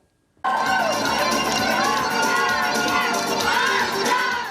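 Parents greeting returning child dancers from a folk dance ensemble at an airport: a loud, continuous crowd roar of cheering and shouting that starts abruptly, with children's voices and applause mixed in.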